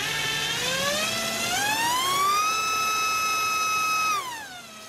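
A drone motor on a thrust test stand, powered by a Dinogy 1300 4S battery, whines loudly and close, its harmonic pitch climbing steadily, holding high, then dropping as the throttle falls near the end.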